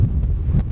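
Wind blowing across White Edge, an exposed gritstone escarpment in the Peak District, a steady low buffeting rumble on the microphone with a couple of stronger gusts and no talk.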